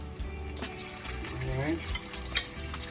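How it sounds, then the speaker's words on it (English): Tofu pieces frying in hot oil, a low steady sizzle with light clatter from a pan, fairly quiet throughout with a sharp knock at the end. "So we just add our tofu. And we're gonna fry them on both sides."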